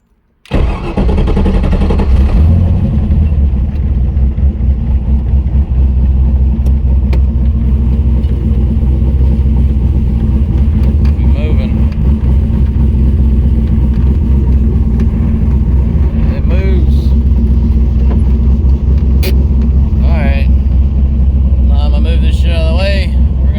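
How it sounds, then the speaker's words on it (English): A turbocharged, nitrous-fed, LS-swapped Miata starts up and drives off, its engine rumbling loud and steady from inside the car, with faint whining transmission noise and a few brief higher squeaks on top. "I'm just hearing all that transmission noise"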